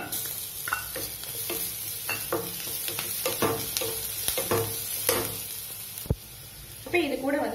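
Onion and ginger garlic paste fry in a pan for a tomato kurma, giving a dense, steady sizzle. Clicks and scrapes from stirring sound throughout, with a louder spatter near the end.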